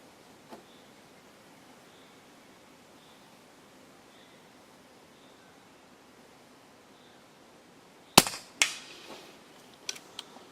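Several sharp shots from an EDgun Leshiy PCP air rifle fired outdoors, a close loud crack followed by a second quick report and two fainter pops near the end, after a long stretch of quiet outdoor ambience with insects.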